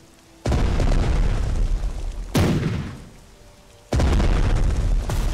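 Collective artillery fire in Strategic Mind: Blitzkrieg, a World War II strategy game, lands as three heavy, loud booms, each a sharp hit followed by a roaring, rumbling tail, with no voices.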